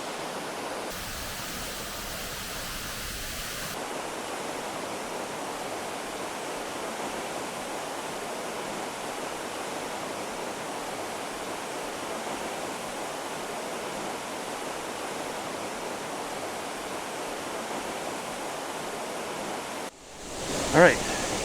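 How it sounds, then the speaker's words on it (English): Kitekite Falls pours in a constant, full-bodied roar of rushing water, steady and unbroken from start to finish, with a brief shuffle near the end. "get the waterfall in the background"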